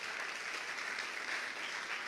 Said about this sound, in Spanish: ¿Podemos darle un aplauso a ese juez que es justo?